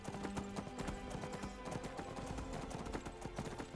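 Horse hooves clip-clopping in Skyrim's Dragonborn DLC, a quick, steady stream of hoof beats over a busy game soundscape, fairly close and continuous without talk.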